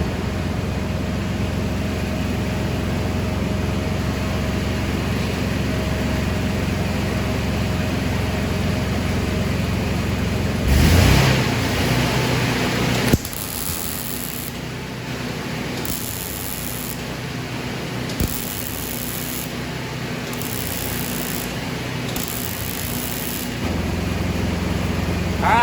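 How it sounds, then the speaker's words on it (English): A welder lays short bursts on a lawn mower deck's metal, several crackling hisses starting and stopping in quick succession over a faint background hum, with no talk. "pull the trigger, weld a short distance, and let off"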